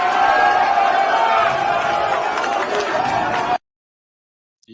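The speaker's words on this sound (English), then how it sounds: "They clapped." A room full of people claps at a gathering for Tinubu, a dense, steady wash of applause with crowd noise running loud for about three and a half seconds before cutting off abruptly to silence.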